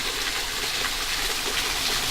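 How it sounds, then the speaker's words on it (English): A small waterfall beside a forest trail in Shawnee National Forest pours in a steady, broad rushing hiss, close and unbroken throughout. "we heard water running like a fall"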